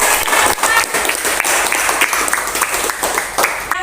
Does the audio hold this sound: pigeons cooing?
no